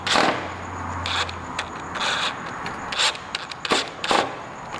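Ratchet wrench with a 7mm socket working fasteners loose while dismantling a Vespa GTS scooter, a few bursts of rapid clicking and metallic rubbing, close and fairly loud, with no talking.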